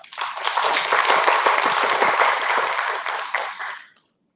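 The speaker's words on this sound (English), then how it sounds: "So I think they deserve a big round of applause." An audience at a teaching workshop breaks into sustained applause, a dense wash of clapping that holds steady for about four seconds before stopping abruptly.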